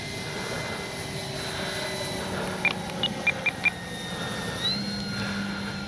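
An FMS 3 m Fox glider model plane flies after a hand launch, giving a faint, steady airborne hum in the distance with a few soft clicks partway through and no voices.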